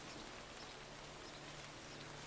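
Steady rain falls in the farming video game Hundred Days, a dense, even hiss with faint low ambient tones beneath, unbroken and with no voices.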